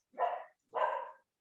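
A dog barks twice, close and fairly loud, two evenly spaced woofs with a short silence between them and no other sound.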